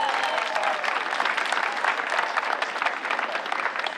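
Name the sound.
crowd applauding at a high school graduation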